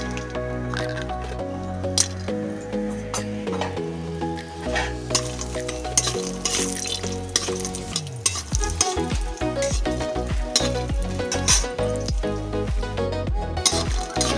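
Badi lentil dumplings frying in hot oil in a kadai, with bubbling, crackling sizzle and frequent sharp stirring clatters against the pan, close and fairly loud, with music playing throughout.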